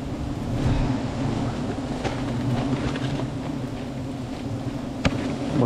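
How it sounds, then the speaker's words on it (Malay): Strong wind roars steadily against the microphone beside a garden, a constant low rumble with faint rustling and one brief knock near the end. "Angin kuat."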